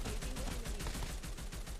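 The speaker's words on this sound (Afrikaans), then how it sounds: "Skote wat nou gaan loop." Rapid gunfire crackles nonstop during a women's scrim match in a shooter video game, dense repeated shots like automatic fire, loud and steady without speech.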